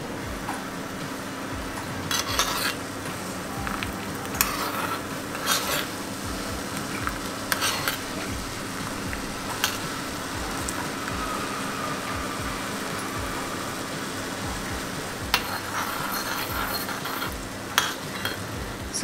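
A thick paste boils in a pan while a spoon stirs it, repeated scraping strokes over a constant bubbling hiss that runs through the whole passage.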